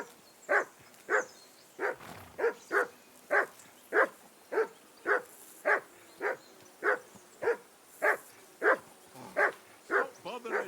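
A dog in Kingdom Come Deliverance 2 barks over and over at a steady pace, roughly one sharp bark every half second or so, fairly close and clear above a quiet background.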